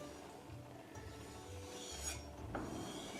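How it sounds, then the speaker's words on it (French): Steel blade stroked over a leather strop loaded with polishing paste, giving soft, steady rasping rubs in a slow back-and-forth rhythm, close and fairly quiet, with no talking. "on frotte la pâte sur le cuir et d'après on peut effectuer notre mouvement"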